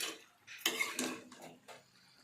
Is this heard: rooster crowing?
no